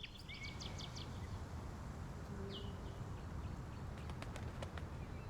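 Birds chirp faintly in the PowerWash Simulator game, scattered short tweets and a brief trill over a steady low ambient hiss, distant and soft.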